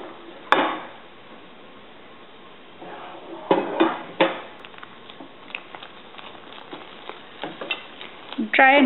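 A spoon stirs and scrapes a thick roasted rice powder dough flavoured with cardamom as it cooks in a pan, giving irregular close knocks and scrapes over a soft sizzle, with a louder clatter near the end.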